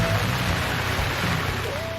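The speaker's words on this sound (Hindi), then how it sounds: "लाहौर में काली घटाएं आईं और छा गई मूसलाधार बारिश ने जल थल एक कर दिया।" Heavy monsoon-style downpour over Lahore, a steady, dense roar of rain that holds at an even loudness throughout, with no voices.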